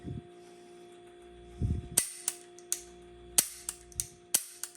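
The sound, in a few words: gunshots from a Tara TM-9 pistol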